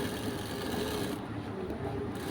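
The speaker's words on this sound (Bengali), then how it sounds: "দুটি ভাঁজ দিয়ে বোতাম প্লেটটাকে সেলাই দিচ্ছি" A sewing machine stitching a shirt's button plate with two folds, humming steadily and faintly, close, without a break, with no talking.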